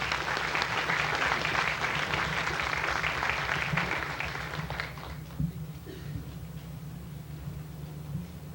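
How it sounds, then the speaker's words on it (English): A graduation audience claps for award winners, loud sustained applause for about four seconds that then thins and fades to scattered claps and room murmur. "these two folks are very deserving and deserve a big round of applause"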